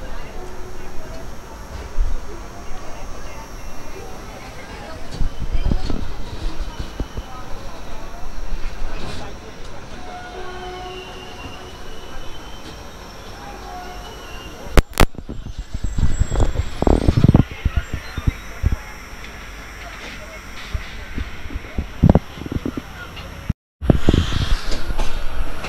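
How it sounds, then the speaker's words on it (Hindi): Indrayani Express train 22106 departing Pune station on an evening run toward Mumbai: a steady rumbling rail roar from on board with occasional clunks and rattles, while someone talks over it throughout. "तो ये ट्रेन नंबर है 22106 इंद्रायणी एक्सप्रेस"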